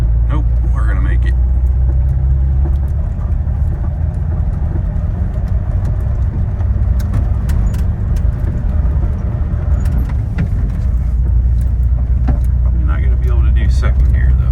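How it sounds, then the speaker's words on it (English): A van engine labors up a steep hill in low gear, a loud continuous rumble with rattling from the cabin and a voice talking over it. "I might have to go into granny gear since I didn't get a run at this."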